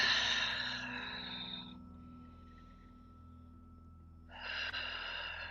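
Forceful exhales during a yoga session come as two close, breathy bursts, then a quiet pause, then another strong push of breath out, near and clear.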